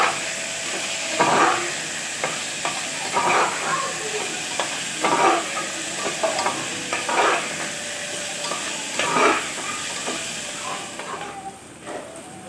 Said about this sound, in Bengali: এটা দিয়ে আমি খুব সুন্দরভাবে ভেজে নেব।